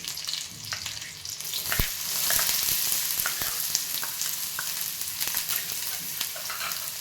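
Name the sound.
onion and chili sautéing in a pan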